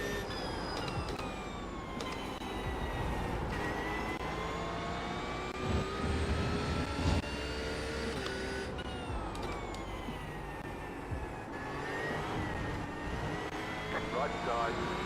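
GT3 race car engine in iRacing at Road Atlanta or Watkins Glen, a steady whining engine tone that rises and falls with shifts, with someone talking over it.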